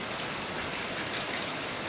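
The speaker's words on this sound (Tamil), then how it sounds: "இங்கே எவ்வளோ மழை கொட்டுதுன்னு பாருங்கள்." Heavy rain pours steadily outside a window, a dense, even hiss of drops with no pauses.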